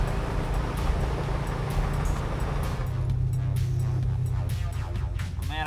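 A 7-liter Ford Galaxie 500 accelerates in fourth gear with a steady, loud, throbbing engine drone that holds throughout and has no voices over it.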